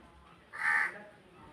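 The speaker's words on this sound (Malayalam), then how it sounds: "കാക്കച്ചേട്ടൻ നല്ല വിളിയാണ് കേട്ടോ" A crow gives a single loud, harsh caw lasting about a third of a second, close by, against a quiet outdoor background.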